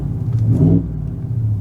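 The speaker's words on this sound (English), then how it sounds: "here's some I guess interior revving so you guys can hear what it sounds like. So here is the quiet mode inside." A 2023 Ford Raptor R engine revs briefly in quiet mode, heard from inside the cabin as a muffled low rumble that swells and then settles back to a steady drone.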